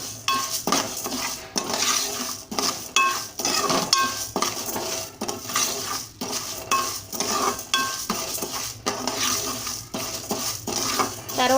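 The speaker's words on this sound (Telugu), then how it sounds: "రైస్ కూడా వేసి వేయించేసుకోవాలి. దోరగా వేయించుకుంటే చాలండి" Rice fried and stirred in a pan for mutton haleem: a steady run of scraping, clattering utensil strokes against the pan over a soft sizzle, loud and close, with no talking.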